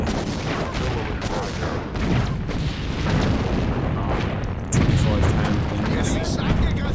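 Artillery fire in the video game Sudden Strike 2, a continuous barrage of booming blasts and rumbling impacts that swells louder midway, dense and unbroken.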